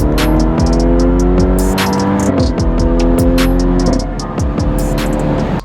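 A BMW F30 sedan is driven hard on the road, its engine revving loudly and climbing through the gears, with a steady close engine drone throughout and a slight easing near the end.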